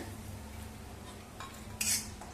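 Dry ginger fries in oil in a wok, a faint low sizzle running under soft scraping of a spoon against the metal, with one sharper clink of utensil near the end.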